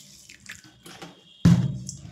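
Water poured over white and black mustard seeds and cumin to soak: a few faint drips, then a sudden close splash and gush of water that fades out.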